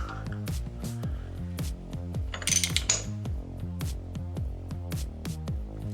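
A motorcycle engine with a Dyna S ignition being turned over by hand with a ratchet, giving a close, rapid, even run of metallic clicks with a brief brighter scrape partway through and no talking.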